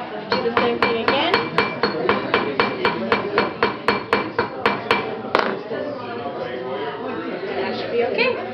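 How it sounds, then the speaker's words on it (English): Sharp metallic taps of a hammer striking a ring on a mandrel, about twenty quick, evenly spaced blows close by, then a quieter stretch. "you could put it back onto the mandrel, and you could just hammer gently"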